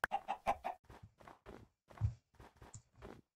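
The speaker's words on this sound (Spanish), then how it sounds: "Otro pollito." Game chickens cluck in MagiCraft, a series of short, soft, evenly spaced clucks with a few footstep-like taps, quiet and alone without talk.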